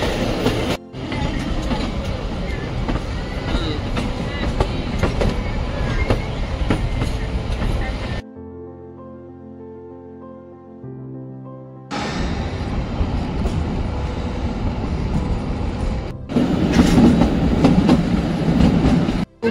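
The Kalka-Shimla toy train rumbles steadily along the rails, a loud continuous clatter heard from on board, broken by a few seconds of quieter musical sound before the running noise returns.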